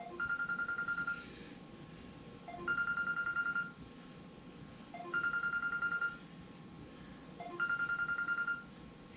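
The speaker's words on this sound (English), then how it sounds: "Of course, my phone's ringing." A mobile phone rings in a workshop where hydro-dipping paint is being prepared, its electronic ringtone repeating in four evenly spaced bursts over a low background hum.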